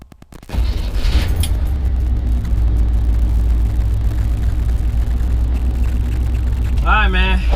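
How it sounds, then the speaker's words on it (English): A 1983 Chevy C10 pickup engine catches and settles into a loud, steady idle rumble as it warms up, close by. A brief squeal or whine rises near the end. "let's get this truck warmed up"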